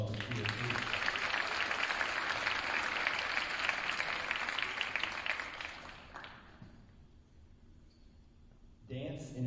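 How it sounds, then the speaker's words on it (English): An audience at a school winter awards ceremony applauds the cheer team with sustained clapping that fills the hall for about six seconds, then fades to quiet room tone before a voice begins. "Round of applause for Cheer, please."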